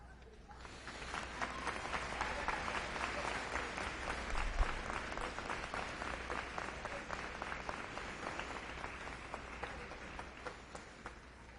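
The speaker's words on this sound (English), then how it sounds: "applaud them for the support they've given you throughout the years" Graduates clap together at a college convocation, a broad, even roar of many hands that swells quickly and holds steadily for several seconds in a large room, with a few voices mixed in.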